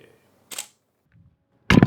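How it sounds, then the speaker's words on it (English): A camera shutter fires on a full press of the release button, giving one sharp mechanical snap near and alone after a quieter click, with no talking. "And when you full press, boom, shutter."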